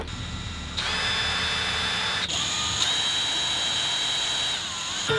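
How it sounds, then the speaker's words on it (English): Power drill boring a hole into the plastic housing of a new Starlink dish, a loud continuous whine with a steady high pitched tone and a vacuum running alongside. "So now we're just gonna make a hole in our brand new Starlink."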